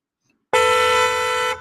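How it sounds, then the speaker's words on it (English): A single car horn blares loudly and steadily for about a second after a brief silence, then cuts off abruptly. "you honked at me to get out of the spot faster"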